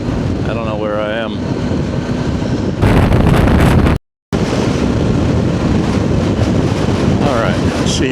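Strong wind gusts buffet a motorcycle rider's helmet microphone on the road: constant heavy roaring rumble that surges louder, cuts out briefly, then returns, with the rider's voice faintly under the noise.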